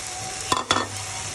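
Grated prawn heads frying in a pan, a steady close sizzle with two quick stirring scrapes in the middle, no talk.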